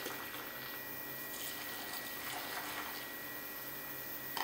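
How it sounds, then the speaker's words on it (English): Boiling water being poured from a cup into an apple and date cake mixture, a soft steady liquid trickle and splash lasting several seconds at low volume, with no talk. "we just take a cup of boiling water and add it to the mixture"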